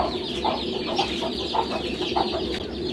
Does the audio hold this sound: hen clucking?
yes